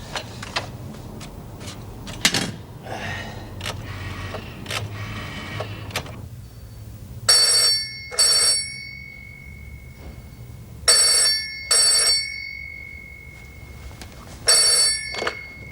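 An old telephone bell rings in three paired bursts, loud and close, after a stretch of rustling and clatter in a 1980s prison drama setting.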